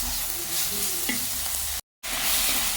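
Potatoes tumble into a pan of frying onion, green chili and tomato, giving a steady close sizzle with stirring scrapes that cuts out briefly near the end before the frying resumes.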